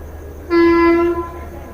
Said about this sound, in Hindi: तो 12:03 पर हमारी ट्रेन का जो डिपार्चर है वो फ़िलहाल लक्सर जंक्शन से हो रहा है